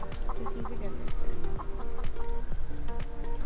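Chickens and a rooster cluck steadily in a coop kept on deep wood-chip bedding, with overlapping close calls and soft pecking throughout, fairly loud and continuous.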